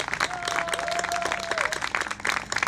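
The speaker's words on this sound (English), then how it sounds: "please join me in a big round of applause as he is our Grand Marshal for this event." A crowd at an outdoor Veterans Day festival in Long Beach breaks into steady, dense applause, with a whistle and scattered cheers rising over the clapping.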